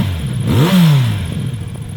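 A Kawasaki Z900 RS Café motorcycle engine revs once, close up, its pitch sweeping up sharply and falling away over about a second against a steady idle.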